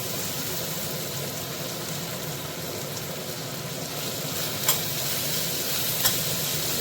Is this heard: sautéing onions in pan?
yes